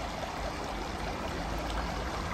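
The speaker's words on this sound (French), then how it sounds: "Et tu peux voir le petit cours d'eau en train de ruisseler." A small stream trickles through countryside near Clisson, a soft, steady wash of running water heard close and alone, without voices.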